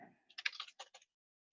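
A short burst of about half a dozen computer keyboard keystrokes, quick and close, typed in a quiet room, ending in silence.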